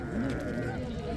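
Sheep bleat at a weekly livestock market in Morocco, a few short, fairly faint calls set against the crowd's hubbub and nearby voices.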